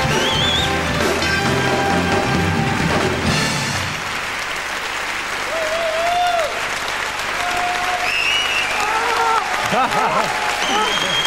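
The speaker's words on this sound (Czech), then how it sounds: "Potlesk pro paní Stelu Zázvorkovou" A large audience at the Czech Lion 2004 film awards gala gives actress Stella Zázvorková a standing ovation, dense loud clapping throughout with a voice speaking over the start and whistles and cheers rising later.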